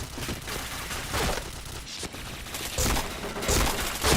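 Dense, continuous gunfire from a shooting video game, rapid overlapping shots and bursts filling the whole stretch loudly, with no pause.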